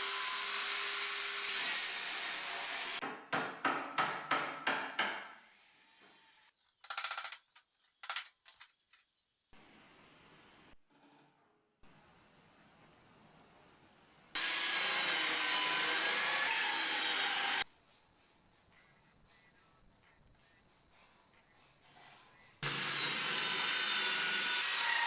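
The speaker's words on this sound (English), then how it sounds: "drill out all of the spot welds holding it in place with a spot weld cutting drill bit" Bursts of harsh grinding from a spot weld cutting bit drilling out spot welds in the steel body of a BMW E30 325i Touring, starting and stopping in several long runs with short rattling clatters and quiet gaps between.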